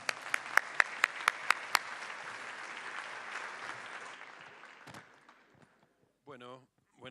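Applause from a forum audience at a panel on cultural policy, with crisp early claps swelling into steady clapping that tapers off gradually before a speaker's voice comes in at the close.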